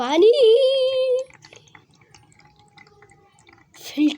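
Water trickles and drips steadily after a brief burst of voice at the start, with faint splashing throughout and a voice returning at the end.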